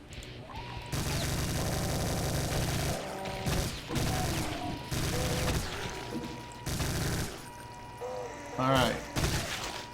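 Sustained rapid gunfire in Brutal Doom, loud bursts of automatic shooting broken by short pauses, with crashing impacts and mechanical clatter, while someone briefly speaks over the barrage.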